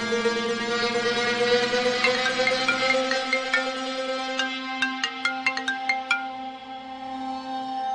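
A mobile phone ringtone plays alone: a sustained, bright melodic tone with bell-like chimes, ending in a quick series of repeated ringing notes.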